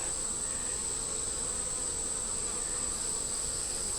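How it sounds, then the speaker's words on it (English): A dense, steady hum of many bees buzzing close by, unbroken throughout with a thin high tone above it. "The bottom has a pretty good amount of bees in it."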